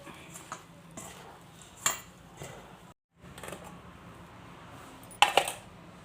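Rice flour dough for Telangana sarva pindi is mixed with spring onion and coriander, producing soft scraping and rustling broken by a few sharp metallic clinks, a short silent gap midway, and a louder pair of knocks near the end.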